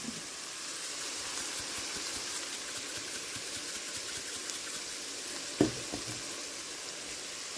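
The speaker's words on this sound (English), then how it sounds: "we're going to let that garlic cook down" Garlic frying in a pan, a soft, steady sizzle close by with one brief clatter near the end; no talking.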